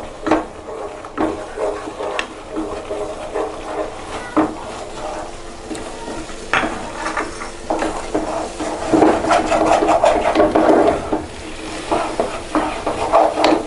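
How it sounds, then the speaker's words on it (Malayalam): Semolina (rava) stirred into boiling water for Kerala-style upma, a steady scraping and rubbing of a spoon against the pan with irregular soft knocks, close and fairly clear, growing busier toward the end. "റവ ചേർക്കുന്നതോടൊപ്പം തന്നെ നമ്മൾ ഇങ്ങനെ ഇളക്കി കൊടുക്കണം"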